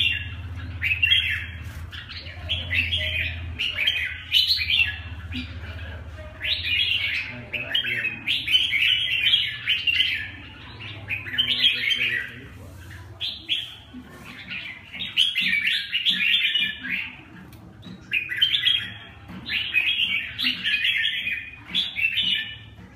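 A red-whiskered bulbul sings in repeated bright chirping phrases, close and fairly loud, with short pauses between bursts over a low background hum.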